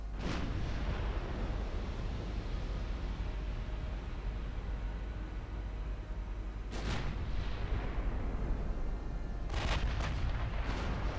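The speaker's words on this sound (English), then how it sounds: "Meaning Goeben is now getting broadside shots." Broadside naval gunfire against the battlecruiser Goeben in Ultimate Admiral: Dreadnoughts, a constant low rumbling roar broken by two distant cannon blasts, the second a rapid double boom near the end.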